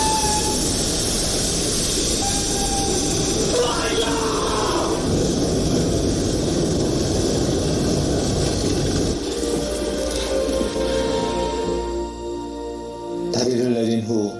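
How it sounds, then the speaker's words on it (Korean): A passenger train rumbles across a bridge in a loud continuous roar of wheels on rails, thinning out toward the end as the noise fades. "승객을 태운 기차는 무사히 다리를 건너게 됩니다."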